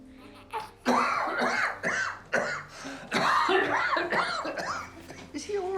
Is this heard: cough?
yes